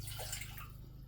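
Water pours from a cup into a cooking pan for rice, a close, steady splashing trickle lasting about a second with no talk over it.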